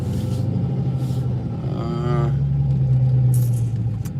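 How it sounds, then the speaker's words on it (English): An idling car engine hums steadily and close on a cold night outside an ATM, a constant low rumble with a rising tonal drone in the middle and faint hissing bursts around it. "Leave the car running."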